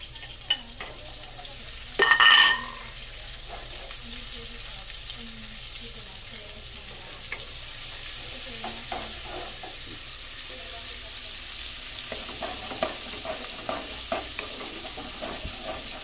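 Ginger and onion frying and being stirred in a pan for pork dinuguan, a steady soft sizzle with scattered stirring scrapes and a brief louder clatter near the start.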